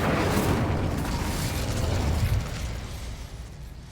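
Incendio fire spell cast in Hogwarts Legacy, a roaring, crackling whoosh of flame that runs loud and steady for over two seconds and then drops to a lower rumbling tail.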